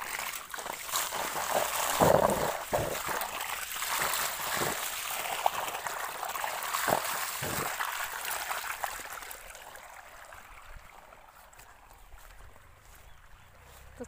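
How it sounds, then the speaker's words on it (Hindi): Cold water flows steadily outdoors, a broad rushing wash that stays fairly loud at first and gradually softens toward the end, with a few sharper splashes and knocks along the way. "और ठंडा पानी आ रहा है"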